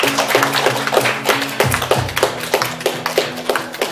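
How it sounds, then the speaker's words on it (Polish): Audience clapping at a fashion show for the Black & White collection, with sparse, uneven individual claps in a rhythmic pattern over a low hum of background music, fairly close and moderately loud. "Duże brawa dla projektantek."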